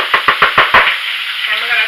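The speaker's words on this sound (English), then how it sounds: "you see that sizzle, sizzle, and we're gonna let them cook" Food sizzles in a hot pan with several sharp, rhythmic bursts of crackling as ingredients are stirred or tossed, then a steadier, quieter frying hiss continues.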